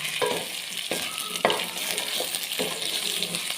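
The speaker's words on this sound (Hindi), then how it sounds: "दो 3 मिनट इसको भूनने के बाद हम इसमें गाजर डाल देंगे" Mixed vegetables sizzle and fry in a pan while being stirred, with steady crackling and several sharp scrapes and clinks of a utensil against the pan.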